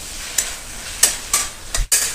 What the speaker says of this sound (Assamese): জিকাৰ লগত মছলাখিনি যাতে ভালকৈ মিহলি হৈ যায় সেইকাৰণে এবাৰ লৰাই দিছোঁ আৰু অলপ সময় ভাজি ল'ম।